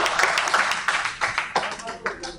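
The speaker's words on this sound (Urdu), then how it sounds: "ملک صاحب کے لیے تالیاں." An audience claps in a hall after a speech about a resolution, a brief burst of irregular hand claps that thins out over a couple of seconds.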